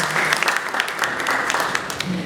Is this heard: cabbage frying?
no